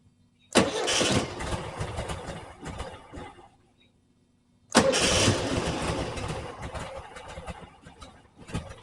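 The original fuel-injected engine of a 1968 Volkswagen Type 3 cranks and catches twice. Each attempt is a loud, close burst of starter churn and rough running that dies away, with a quiet gap between them.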